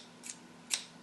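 Two crisp metal scissor snips played as a percussion instrument by a musician in a rock band, spaced about half a second apart, the second louder, against a quiet background.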